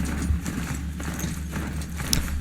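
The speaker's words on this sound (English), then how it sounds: "we finally have a horse again" A horse's hooves clip-clop in a steady walking rhythm in Horizon Zero Dawn, close and clear over a low ambient game backdrop, with no speech.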